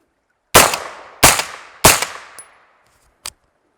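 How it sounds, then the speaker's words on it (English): Three suppressed gunshots from a rifle fitted with a Liberty Mystic suppressor on an LS1 muzzle brake, evenly spaced, loud and sharp with short decays outdoors, followed by a faint metallic click. "we can of course go ahead and shoot suppressed"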